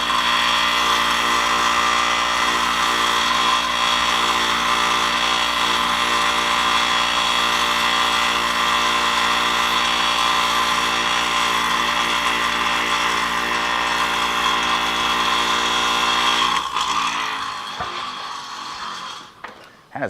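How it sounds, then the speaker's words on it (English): A loud power grinder cleans up a snap ring from a 1974 Honda CL125 motorcycle under restoration, a constant harsh whine for about seventeen seconds before spinning down and stopping. "That is one loud grinder."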